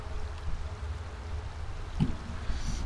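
Steady rushing water from a waterfall in the video game Skyrim, a continuous low roar with faint splashing, fairly quiet and unbroken.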